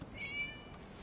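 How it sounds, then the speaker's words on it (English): A single short meow from a cat in Genshin Impact rises and holds briefly, quiet and close against soft background ambience. "It was just a cat."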